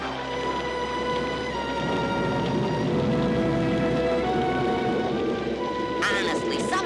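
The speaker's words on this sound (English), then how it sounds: "It's only a little storm." Steady heavy rain pours through a cartoon storm scene, a dense continuous hiss with a low rumble beneath, loud and close throughout with a brief brighter burst near the end.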